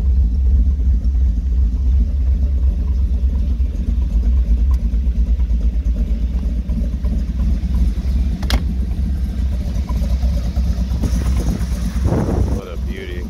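A 1930 Ford Model A engine idles with a steady, loud low-pitched rumble throughout, a brief sharp click near the middle and some rustling handling noise toward the end.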